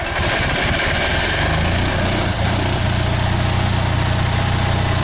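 A small portable generator engine fitted with an HHO hydrogen-on-demand unit runs steadily up close, a loud, even mechanical drone with a rapid chugging pulse and no speech.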